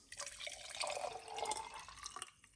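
An herbal drink from a traditional home recipe is poured into a cup, giving a short, close, trickling splash that swells and fades over a couple of seconds, with no talking.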